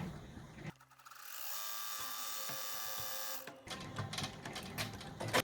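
Embroidery machine stitching a tack-down outline onto a fabric lantern panel, a steady fast mechanical whirring with a rhythmic needle clatter that runs evenly for a few seconds, then stops and gives way to looser handling noises, close and without speech.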